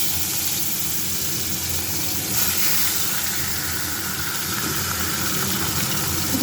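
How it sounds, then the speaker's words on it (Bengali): Fish pieces fry in a pan with a steady, fairly faint hiss and sizzle under a constant broadband wash, with no one speaking. "খাইয়ে এসে এবার মাছগুলো ভেজে নেব"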